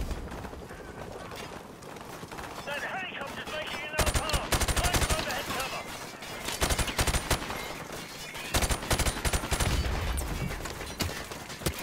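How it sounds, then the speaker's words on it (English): Rapid bursts of automatic gunfire in a Modern Warfare Remastered campaign battle, loud, close and dense, with heavy volleys at several points and near-continuous shooting between them. "Who the hell's shooting at me?"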